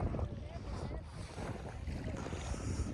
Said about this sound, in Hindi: तो भाई झंडे अगर हिल रहे हैं तो हवा बहुत तेज़ होगी।